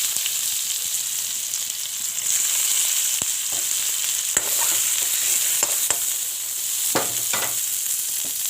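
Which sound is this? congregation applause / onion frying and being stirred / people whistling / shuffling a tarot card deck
onion frying and being stirred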